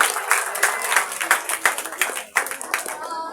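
Clapping for a girl at a children's school program, a small group of hands beating in quick uneven bursts that fade and swell, close and fairly loud.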